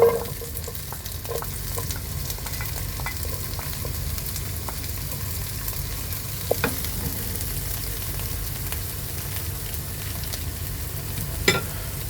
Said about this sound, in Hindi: और वेजिटेबल्स को मैं स्टर फ्राई कर दूँगी